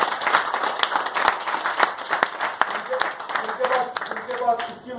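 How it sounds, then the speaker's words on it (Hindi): A crowd claps loudly and continuously in a room, steady dense applause with a voice beginning to speak over it toward the end. "जोरदार तालियां हो जाए इसके लिए।"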